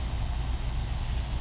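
A tattoo machine motor runs with a steady, close buzzing hum that stays even throughout, with no voices.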